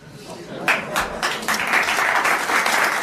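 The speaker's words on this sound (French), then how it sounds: "N'applaudissez pas en plus" A French television studio audience breaks into applause, starting with a few scattered claps and swelling into a steady, fairly loud round of many hands, with faint voices underneath.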